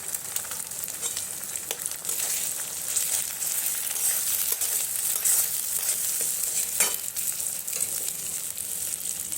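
Two eggs fry in a pan with a steady, dense sizzle and crackle that runs continuously at close range, with occasional sharper pops and stirring scrapes.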